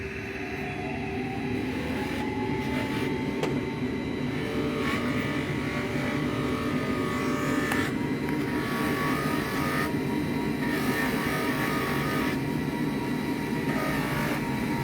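Metal pattern plates being polished with a 3M compressed Scotch-Brite wheel, a steady motor drone and rushing abrasive grind that holds constant throughout, with faint clicks along the way.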